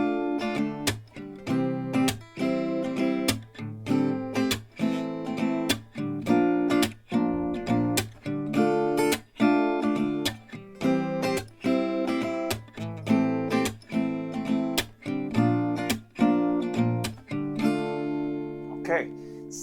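Acoustic guitar strummed in a steady rhythm with single melody notes woven into the chords, from a song; close, continuous and full, with no talking.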